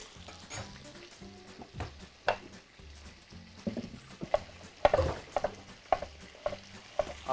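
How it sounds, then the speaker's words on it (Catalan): Vegetables frying in oil that has taken on the flavour of meat, with a quiet sizzle beneath irregular stirring taps and knocks against the pan, close and low in level. "Amb el mateix oli, que ja té tot el gust de la carn, és amb el que després coem la verdura"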